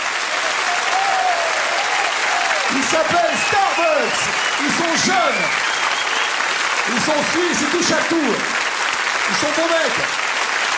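Sustained audience applause for performers at a Birdland jazz evening, dense and loud throughout, with a voice speaking over it at intervals.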